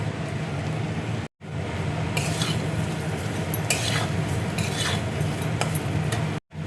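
Potatoes tipped into a cooking pot of Bengali cholar dal and stirred, with steady scraping and sizzling throughout and a few brief gaps in the sound.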